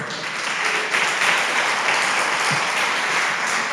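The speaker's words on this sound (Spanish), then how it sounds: "Dele un aplauso al Señor." A church congregation applauds after a sermon prayer, a steady, dense wash of many hands clapping together at close range with no break, a faint voice just beneath it.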